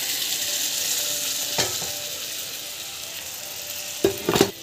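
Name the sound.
chilli powder tempering sautéing in a pan for mango dal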